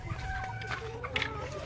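Chickens clucking at a layer farm, short soft clucks mixed with a busy background while a person talks over them.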